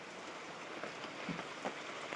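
Steady rain falls outside a goat shelter, a continuous soft hiss of drops on surfaces with a couple of faint knocks in the middle; no voices.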